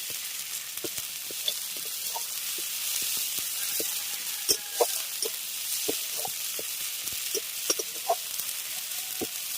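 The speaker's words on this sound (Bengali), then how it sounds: "হালকা করে একটু আদা রসুন আর যাচ্ছে মশলাটা ছিল সমস্ত কিছুর সঙ্গে একটু ভেজে নিচ্ছি" Mustard paste frying with ginger, garlic and spices for a pabda fish curry: a steady soft sizzle with scattered sharp ticks and spatters and occasional spoon scrapes, close by and fairly quiet.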